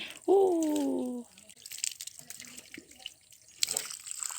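Tap water gushes into a walk-in shower, opening with a short whining squeal from the fixture before settling into a steady, moderately loud running stream.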